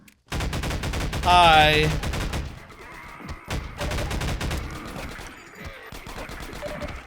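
Shotgun blasts ring out in Half-Life 2 Episode One, a few sharp, fairly loud reports spaced apart between game sounds, with a brief spoken greeting.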